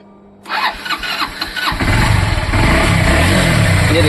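Rebuilt Honda Livo motorcycle engine turned over and catching after a short silence, firing up and settling into a steady, close idle.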